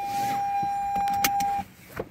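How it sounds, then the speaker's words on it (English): Power windows closing on a 2020 Toyota Corolla Hybrid, a steady electric motor whine running about one and a half seconds inside the car, then a soft thump as the glass seats, with clicks and cabin noise. "Let me put up the windows here"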